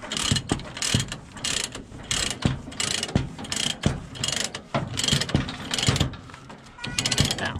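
A ratchet strap is cranked tight to secure a surplus Chevrolet Suburban for hauling, giving a rapid series of clicking pawl bursts in an uneven rhythm, close and clear, with brief gaps between strokes.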